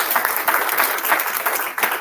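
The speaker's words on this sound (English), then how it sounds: "Let's give them a big round of applause." Audience at a school board meeting applauds the UIL academics team, a dense, loud wash of clapping that holds steady for the full two seconds.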